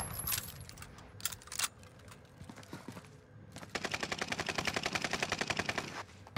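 Rapid gunfire from a first-person shooter game session, with an MP5-style automatic weapon firing a fast, steady burst in the second half after scattered earlier shots and clatter, fairly loud and without talk.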